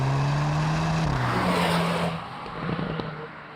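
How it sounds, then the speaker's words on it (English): A Hyundai Kona N's exhaust gives a low, throaty drone from behind the car, fairly distant and steady, then drops away and thins out toward the end. "So you hear that throaty sound back there."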